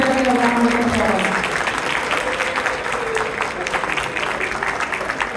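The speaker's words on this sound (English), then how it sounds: "And give everybody a round of applause." A gala fundraiser crowd applauds its team with loud, steady clapping that runs throughout. A speaking voice carries over the start of the clapping.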